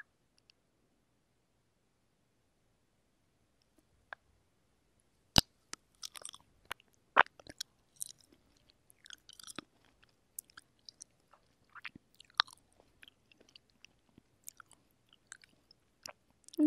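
Close, quiet bites and crunchy chewing of fresh, juicy red cherries, with scattered wet crunches and smacks that come irregularly after a few seconds of near silence.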